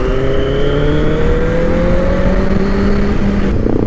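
A motor engine drones loudly and steadily at speed, its pitch rising slightly, with constant wind rush as it travels along an open road.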